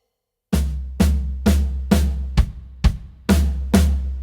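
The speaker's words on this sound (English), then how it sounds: "A double hit is when you play 2 drums simultaneously, so the snare and the floor tom played together" Drum fill built from double hits, snare and floor tom struck together: eight loud, evenly spaced unison strikes at a steady pulse, each with a sharp crack over a deep boomy body, heard close with no talking.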